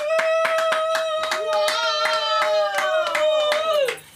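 A crowd at a comedy open mic night in Los Angeles claps in a quick, rhythmic beat while a loud voice whoops and sustains a cheer over it; the clapping cuts off abruptly at the end.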